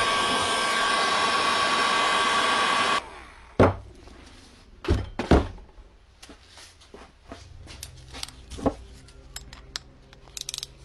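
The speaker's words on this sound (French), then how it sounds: "on chauffe la vis et on sort les paliers." A heat gun blows with a loud, steady roar for about three seconds while heating a screw on a Mazda RX8 engine under rebuild, then cuts off, followed by sharp metallic tool clanks and knocks nearby.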